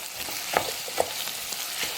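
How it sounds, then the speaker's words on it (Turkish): Half a tomato frying with potatoes in a pan while making Turkish meyhane pilaf: a steady, close hiss of sizzling oil with a few soft stirring scrapes and clicks, no voices. "Domatesimi de atıyorum. Onu da böyle bir iki dakika kavuruyorum."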